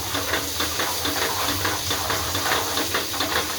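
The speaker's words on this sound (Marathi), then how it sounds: "छान असं लाल आकारचं आपला मस्त असा मसाला भाजून घ्यायला लागला" Red masala paste roasts in oil in a pan for Maharashtrian misal, giving a steady, fairly loud hissing sizzle with soft rhythmic stirring and no talking.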